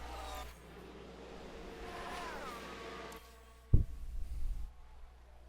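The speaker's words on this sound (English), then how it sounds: "Sounds like a single car." A lone Formula 1 car from the F1 Manager 2022 racing game drones past with a steady, moderately loud engine note that rises and then cuts away, followed by a brief thump and fading rumble.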